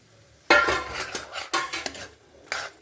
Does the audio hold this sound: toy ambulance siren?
no